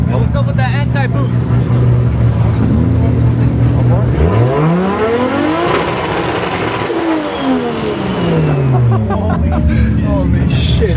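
800HP Toyota Supra at a car meet, its engine held on two-step launch control, a loud sustained roar with rising and falling revs and popping throughout, people talking and shouting over it.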